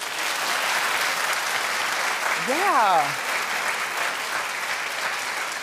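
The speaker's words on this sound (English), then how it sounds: "Clap if you think he'll still get paid." Studio audience at a daytime TV talk show clapping steadily throughout, a dense even wash of applause with a brief spoken interjection over it midway.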